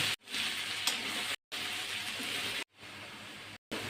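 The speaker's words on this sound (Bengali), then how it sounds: "আলুগুলো কিন্তু ভাজা হয়ে গেছে একদম লাল লাল করে ভেজে নিয়েছি" Potatoes fry in oil without turmeric or salt until reddish-brown, giving a dense, steady sizzle. It comes in several chunks broken by abrupt silent gaps, with no talking.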